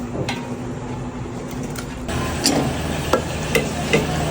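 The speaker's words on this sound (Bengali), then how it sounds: "সো কষানোর জন্য ওয়েট করছি" Mutton korma spices frying in a pan give a steady low sizzle with soft stirring scrapes and a few sharper clinks of a spoon against the pan.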